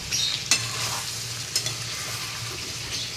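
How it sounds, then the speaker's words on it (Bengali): Potatoes are stirred into a sizzling chicken masala in a pan. A couple of sharp spoon scrapes stand out over a steady, moderately quiet frying hiss, with no speech. "আলুগুলো দিয়ে একটু নাড়াচাড়া করব"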